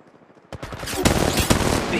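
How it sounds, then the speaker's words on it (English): Enemy gunfire in the mobile shooter Apex Legends Mobile: a loud rapid automatic burst erupts after a quiet moment, close and sustained with sharp repeated cracks. "The enemy shooting."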